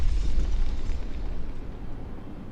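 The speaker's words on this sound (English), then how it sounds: "an explosion in the generator's foundations caused a tunnel collapse, trapping several workers" Explosion in the generator foundations in Frostpunk, a deep rumbling blast that starts loud with heavy low-end roar and slowly fades over a couple of seconds, with no talking.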